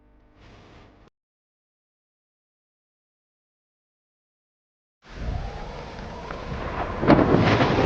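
After a short faint sound and several seconds of silence, steady rain starts up with a low rumble of thunder swelling toward the end.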